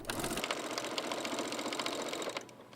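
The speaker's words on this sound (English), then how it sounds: "I just want to be able to sew it because it's such a small piece." A sewing machine stitches a small throw pillow or potholder piece in a steady rapid whir, running close and continuous before stopping near the end.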